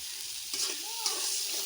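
Slit green chilies fry in a pan, with a steady close sizzle and a brief stirring scrape partway through.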